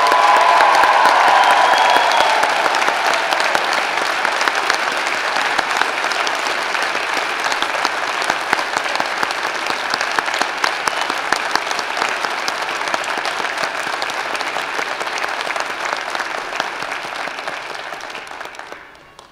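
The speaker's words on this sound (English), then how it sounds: "please join me in a round of applause acknowledging our fall 2017" Sustained applause from a large convocation audience honouring a fall 2017 graduating class, loud and steady for nearly twenty seconds before tapering off at the end.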